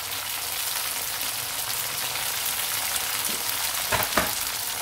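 Cauliflower florets deep frying in hot oil over a high flame, a steady dense sizzle with a couple of brief stirring clatters near the end.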